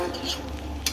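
A spoon stirs chicken and rice in a metal pot for coconut rice, giving soft scraping and clinking with a brief sharper clank near the end, over a steady low hum.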